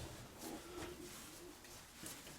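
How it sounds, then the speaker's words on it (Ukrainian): Soft cooing from pigeons kept by a hobbyist breeder, faint and low, a few drawn-out coos against a quiet background. "оці голуби, які зараз я показав"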